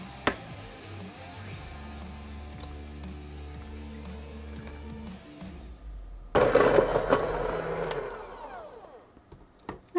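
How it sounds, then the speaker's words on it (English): An electric mixer beats an egg into snickerdoodle cookie dough. After a quieter stretch it starts abruptly, a loud, steady whirring drone that runs for several seconds and then trails off. "I'm going to add 1 egg that I've had out at room temperature, and then I'm going to mix it just until it's incorporated"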